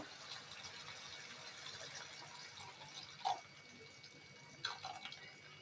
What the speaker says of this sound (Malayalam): ഇനി നമുക്ക് ആദ്യത്തെ തേങ്ങാപ്പാൽ ചേർക്കാം.